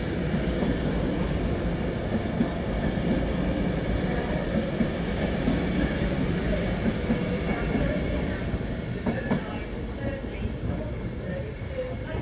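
Passenger train rolling through Preston station, a steady broadband rumble of wheels and running gear holding loud and even for the whole stretch, with a faint voice in the background.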